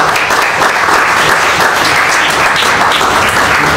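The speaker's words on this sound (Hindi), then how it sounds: "एक बार आप सब वक्ता मंच के लिए ताली बजाइए।" An audience at a children's talent award ceremony in Raipur applauds, with dense, loud, sustained clapping throughout and no break or voices.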